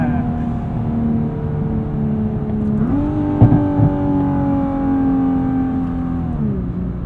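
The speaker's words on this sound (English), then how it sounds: "GTR mode, you get a little pop from the exhaust." A 2021 Nissan GT-R Premium with a 6-speed dual-clutch transmission, driven in GTR mode: a steady, loud engine drone that shifts pitch between gears, with one brief exhaust pop in the middle.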